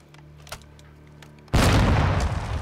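Grenade and frag blasts in the video game Call of Duty: Modern Warfare II go off loud and close in one sudden broad roar that keeps rumbling to the end, after a small pop and quieter background rumble.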